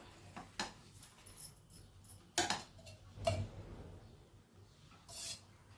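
A metal spoon scrapes and clinks against a pan as ghee is stirred into a milk and roasted chana dal sweet, with a few sharp knocks spread out among quiet pauses and no talking.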